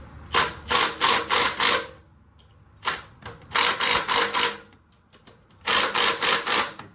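An impact wrench runs down timing cover bolts on a 1999 Chevy S10 with a 2.2L engine, firing three loud, close bursts of rapid rattling hammer blows separated by short quiet gaps.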